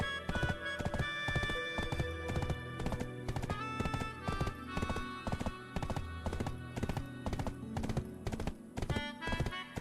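Horse hooves clip-clop in a steady trotting rhythm in a pirate video game, with game music behind them.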